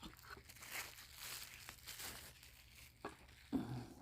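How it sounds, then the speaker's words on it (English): Bubble wrap around a Wurkkos WK15 flashlight crinkles faintly and close by during unboxing, with soft irregular rustles and a slightly louder crunch near the end. "Little bubble wrap there."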